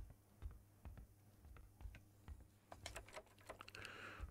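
Keys clacking in quick irregular bursts on a typewriter inside the video game Kona 2: Brume, close and quiet, without any speech.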